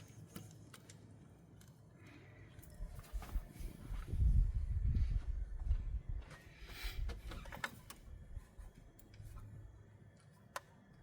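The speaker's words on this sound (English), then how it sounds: "Drop a couple nuts on there." Small metallic ticks and taps come up close as nuts and washers go onto the carburetor studs of a Vortec 350, with a low rumbling handling noise in the middle and quiet gaps between.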